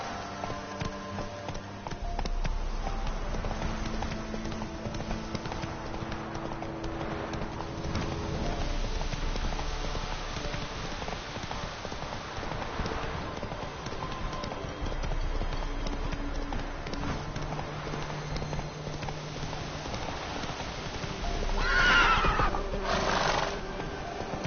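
Horse hooves clip-clop steadily at a gallop in the video game Witcher 3, with a brief whinny late on, over game music and ambience.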